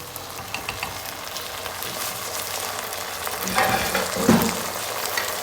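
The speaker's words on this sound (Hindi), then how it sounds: "ये अब ना हमारा थोड़ा सा सौते हो गया है चिकन।" Chicken sautéing in a pan for Sindhi chicken macaroni, a steady close sizzle and crackle with occasional stirring scrapes and a louder hiss swelling near the end.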